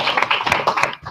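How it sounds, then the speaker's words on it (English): A group of people gives themselves a round of applause at a university student gathering, a brief burst of dense, overlapping hand claps, fairly close and steady for about a second before tailing off. "give yourselves a round of applause for that"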